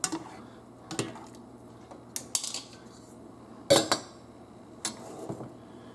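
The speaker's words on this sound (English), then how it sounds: "I'll give it a little stir and put the lid on." Metal utensils clink against a pot of pasta in a few sharp, separate knocks while stirring, then a lid clatters down, close by and fairly quiet.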